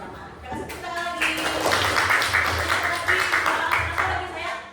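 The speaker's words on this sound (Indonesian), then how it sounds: "Kita kasih tepuk tangan lagi." Schoolchildren in a sixth-grade classroom applaud together in a sustained burst of clapping that builds quickly and holds at a steady, dense level for several seconds, close and fairly loud.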